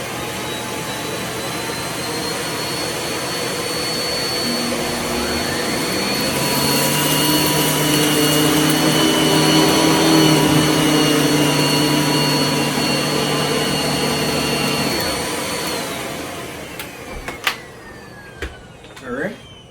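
Miele S7 S7280 bagged upright vacuum cleaner on its maximum smooth-floor setting with the brush roll spinning, a steady whining motor drone that swells louder mid-pass and then fades, with a few knocks near the end.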